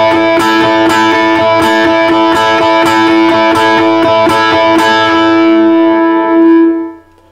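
Electric guitar with distortion playing a 12-bar blues riff in A, accenting the first note of each group of notes, with loud, even, driving picked notes up close, then a final sustained chord that fades out.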